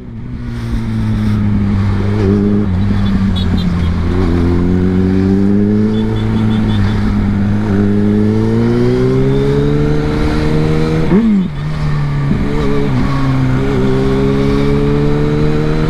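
A loud Suzuki B-King 1340 cc sport motorcycle engine revving up through rising pitch, dropping briefly and climbing again, continuous and close.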